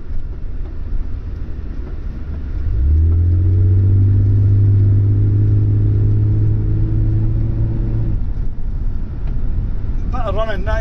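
A Vauxhall Senator CD 3.0 24V engine with a running fault, idling low and then rising to a steady, held higher rev for several seconds before dropping back, close and loud under a constant hum.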